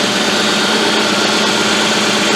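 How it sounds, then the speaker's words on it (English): A car engine idles with a steady, even hum and fine high-pitched vibration, close and constant, in a vehicle with a random misfire and lack of power. "the engine runs smooth."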